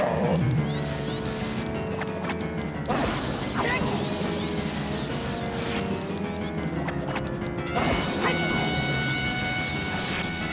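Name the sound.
sword hitting Phantom Ganon's energy ball back, Zelda video game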